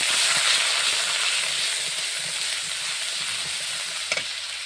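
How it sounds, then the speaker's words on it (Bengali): Spice paste with salt and turmeric fries in a pan for prawn curry, a loud dense sizzle with soft scraping of stirring and one brief clink near the end. "মশলাটা সুন্দর করে কষিয়ে নিই।"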